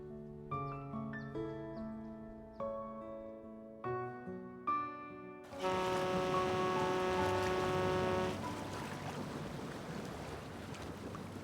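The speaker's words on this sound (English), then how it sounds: "Let's wait for the rain to stop." Rain falling in the video game Love and Deepspace: a steady broad hiss surges in midway and stays loud, washing over soft piano notes that play alone at the start.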